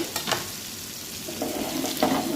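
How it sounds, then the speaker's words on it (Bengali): Kalonji, green chilli, bay leaf and onion frying in hot oil, a close steady sizzle with a few stirring scrapes and a rising crackle toward the end, no voices. "ভালো করে এবার আমি ভেজে নেব।"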